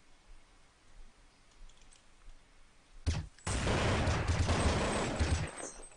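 A quick burst of rapid gunfire in Counter-Strike on de_dust2 during a grand-final match, sharp cracking shots followed by a loud, dense wash of sound, with quiet keyboard clicking beforehand.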